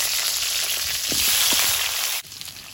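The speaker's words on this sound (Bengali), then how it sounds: "কড়াইতে তেল দিয়ে দেব একটা শুকনো লঙ্কা হাফ করে দিয়ে দেবো তেলে কুমড়োটা দিয়ে দেবো" Pumpkin and a halved dried chilli sizzle in hot oil in a wok, a loud steady frying hiss with a few stirring knocks, cutting off abruptly near the end.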